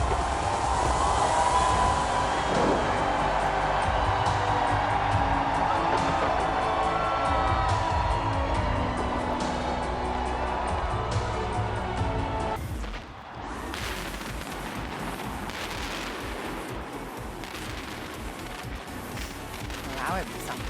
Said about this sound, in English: cities around the world brought in 2020 with elaborate fireworks displays